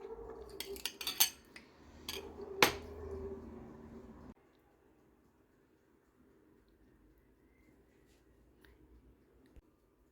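Metal spoon clinks and scrapes in a bowl as oil is stirred with red pepper flakes and oregano for grilled eggplant, several sharp clatters for about four seconds, then near silence with faint handling.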